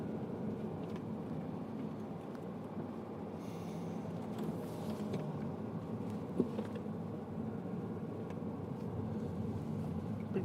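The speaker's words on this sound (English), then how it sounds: "Big truck" A big truck passing on the road, heard from inside a moving car as a low rumbling roar that swells midway, with a brief knock near the end and no talk.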